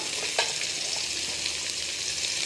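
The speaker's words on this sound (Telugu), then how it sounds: "నల్లేరు బాగా ఫ్రై చేసుకోవాలండి" Nalleru (veld grape) fries in oil with a short burst of loud, close sizzling and a light stirring scrape, and no voice over it.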